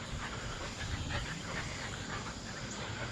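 Several dogs pant rapidly and steadily inside a van, a close, continuous breathy rhythm over a low hiss, with no talking.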